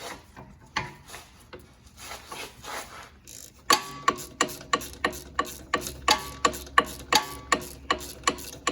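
Ratchet wrench tightening brake caliper bolts on a Dodge Durango rear brake, a steady series of about a dozen sharp, close clicking strokes after a few quieter, slower ones.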